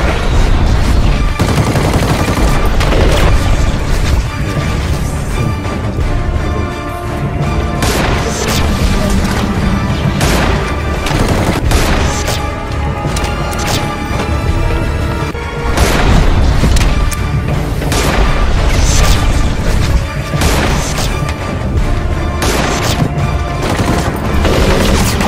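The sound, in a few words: gunfire exchange in a shootout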